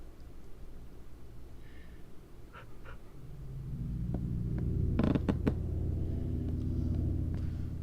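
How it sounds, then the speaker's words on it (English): Low creaking and rumbling in a video game, quiet at first and then swelling into a louder drawn-out creak with sharp ticks and clicks, no talk. "the player hears both a creaking and a cave noise"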